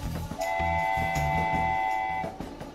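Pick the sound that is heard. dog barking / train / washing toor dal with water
train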